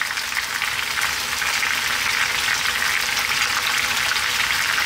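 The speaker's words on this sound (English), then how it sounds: "We're now gonna add in our onion" A dense, even hiss of sizzling fills the scene as onion hits a hot pan for chicken curry, close and continuous without pause, no voices.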